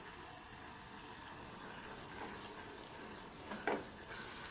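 Steady, soft sizzle of tomato frying with ginger garlic paste in a pan, a continuous hiss with a few faint stirring scrapes near the end.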